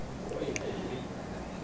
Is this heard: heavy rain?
no